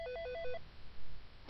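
A telephone rings in the video game F.E.A.R., a faint electronic trill alternating between two tones for about half a second, then going quiet.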